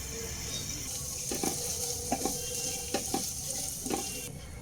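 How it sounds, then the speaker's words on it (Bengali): Chicken pieces cooking in a kadai over a medium flame, a steady hiss with a few soft scraping stirs and clinks of a utensil against the pan, no talking. "মিডিয়াম ফ্লেমে আট থেকে দশ মিনিট চিকেনটাকে কুক হতে দেব"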